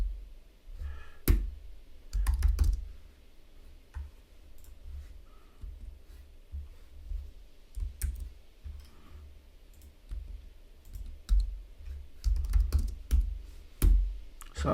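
Computer keyboard typing in bursts of rapid clicking keystrokes with short pauses, close and fairly quiet, during a database-fixing coding session with a misbehaving keyboard; no talking.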